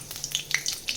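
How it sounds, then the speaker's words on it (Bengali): Nigella seeds tempering in hot oil for a fish curry with poppy seeds, giving a short burst of sharp, bright crackles and pops over a soft sizzle, close and moderately loud. "তার জন্য আমি তেলে কালিজিরা ফোড়ন দিব"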